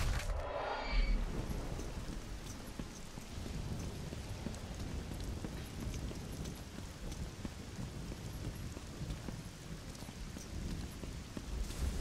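Rain and thunder in God of War 3 Remastered: a continuous hiss of heavy rain with low rumbling thunder underneath, steady and enveloping throughout with no voices.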